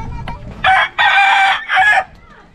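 A rooster crows loudly and close by in three strong bursts: a short opening call, a long sustained middle note, then a shorter closing call, with quiet rural background before and after.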